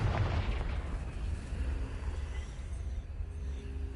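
A Confringo blasting spell erupts in Hogwarts Legacy, a heavy rumbling boom at the start that rolls off into a long, low decaying roar, fairly loud and close.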